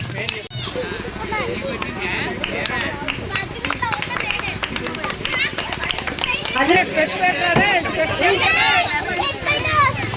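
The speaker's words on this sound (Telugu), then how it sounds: "క్లాప్స్" An audience at a prize-giving during a Karthika Vana Samaradhana celebration in Mangalagiri claps in quick uneven bursts, mixed with crowd chatter and children's voices, building slightly louder toward the end.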